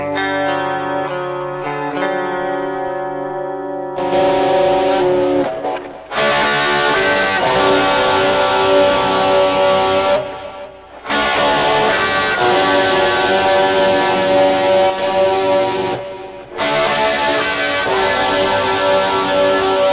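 A Les Paul on its bridge pickup plays through a Tom Scholz Rockman with stereo echo, giving loud, compressed, distorted chords with a chorus shimmer. The chords ring in long sustained blocks separated by brief pauses.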